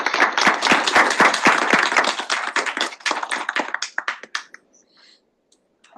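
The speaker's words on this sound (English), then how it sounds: "Please give them a big round of applause," Audience applause at a Senate gathering after a dean is introduced: dense, close clapping for about four seconds, then thinning to a few scattered claps before fading out.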